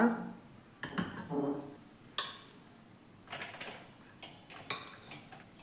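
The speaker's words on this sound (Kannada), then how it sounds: "ಇವಾಗ ನಾನು ಇನ್ನೊಂದು ಅಗಲವಾದ ಪಾತ್ರೆಗೆ ಇದನ್ನು ಟ್ರಾನ್ಸ್ಫರ್ ಮಾಡ್ಕೋತೀನಿ" Scattered clinks and scrapes of a metal spoon as mint rice is transferred into a wide vessel, a few sharper knocks among softer rustling scoops.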